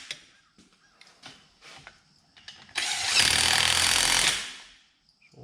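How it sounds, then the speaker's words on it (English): A DeWalt power tool starting tie bolts on a box scraper rattles hard for about a second and a half at close range, following a run of scattered knocks and clanks. "I'm gonna use the DeWalt to start these"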